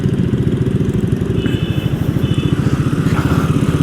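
A Triumph Speed 400, a 400 cc motorcycle, rides through city traffic, its single-cylinder engine thumping in a steady, even pulse up close. It sounds loud and continuous, with faint passing traffic tones layered behind it.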